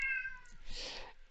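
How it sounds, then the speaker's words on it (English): A pet cat gives a single short meow, close and fairly soft, with no other sounds around it. "He's meowing"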